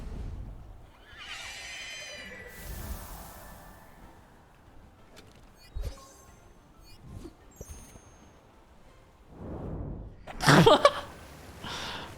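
A horse in the video game Temtem whinnies loudly near the start, a long rising-and-falling neigh, followed by quieter rustling and a few sharp clicks, with a louder burst near the end.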